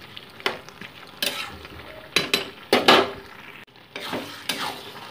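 A spoon stirs hilsa fish head and spinach ghyat in a sizzling pan, giving several sharp scraping clatters at irregular intervals over a soft frying hiss, close and clear, with no talking.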